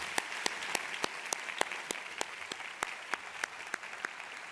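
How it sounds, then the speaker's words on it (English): Audience clapping at a hotel school graduation closing ceremony, fairly faint and distant, with a few sharper individual claps standing out in a loose rhythm over a steady wash. "They deserve an applause,"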